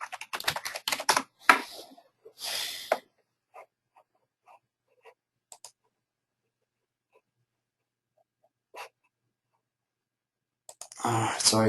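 Computer keyboard clicks come in a quick burst at the start, with sparse isolated taps through a long quiet stretch and a louder rustling burst near the end, close and fairly loud.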